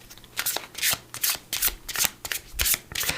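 Oracle cards with Metatron imagery are shuffled repeatedly in close, crisp riffling bursts, with about eight quick flurries of card flicks and no voice over them.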